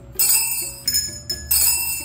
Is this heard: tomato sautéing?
no